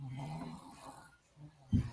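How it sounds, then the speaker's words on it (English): Snoring breaths in a quiet room, faint and rasping, with a louder snorting snore near the end; no talking. "Man, who is that snoring?"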